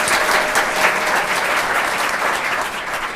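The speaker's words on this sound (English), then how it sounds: "Give her a round of applause." Audience at a Clayton County Board of Commissioners meeting applauding a youth leadership award recipient, a dense, steady roomful of clapping that stays loud from start to finish.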